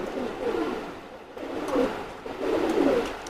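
Teddy pigeons, including a hen, give soft, throaty coos in about three rolling bursts close at hand, over a light hiss of room noise.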